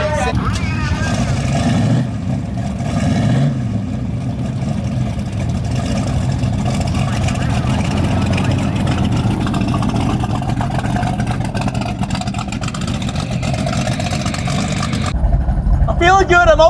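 A drag racing car fitted with 33-inch slicks gives off a loud, steady engine drone that holds throughout at close range. Voices talk over the rumble.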